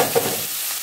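Potato, green chilies and tomato fry in a pan for a curry, making a brief, loud burst of sizzling with a quick stir.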